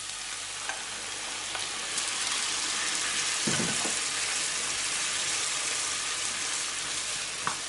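Grated tomatoes and pepper paste sizzle in a pan with a steady, close hiss, broken by a few soft stirring scrapes.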